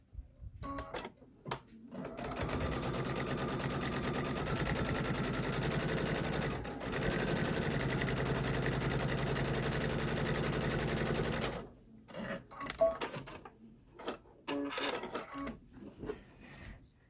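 A sewing machine stitches two pillow pieces together in a steady, fast mechanical whir for about ten seconds, briefly pausing once, with quieter handling clicks before and after.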